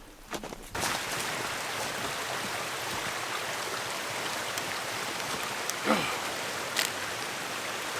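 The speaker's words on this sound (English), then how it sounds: "You can actually see the water running through here." A small stream runs steadily through snow at Lebanon Reservoir, Pennsylvania, on a February morning, a constant rushing babble with a couple of brief knocks and rustles, no talking.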